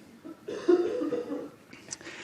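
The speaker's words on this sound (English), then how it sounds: "a sneeze goes. Somebody starts coughing." A few muffled coughs from someone in a crowd, moderately loud, with a brief higher noise near the end.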